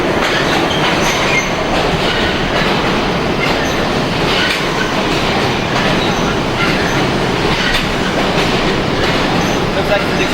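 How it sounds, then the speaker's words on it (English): New York City subway N train arriving at the 34th Street station, a loud continuous roar of wheels and carriages with rhythmic clatter and faint squeals close by, filling the whole stretch without letup. "Here comes our train. The N train"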